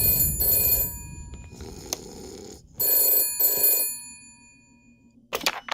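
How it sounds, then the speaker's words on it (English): A telephone rings in the detective video game Shadows of Doubt: several bright electronic ring bursts with short gaps between them, close and clear, with no talking over them. "the phone's ringing."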